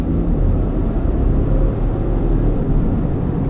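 2019 Ford F-150 STX truck accelerating hard, its 10-speed transmission shifting, heard as a steady, loud, low engine roar from inside the cab with no speech.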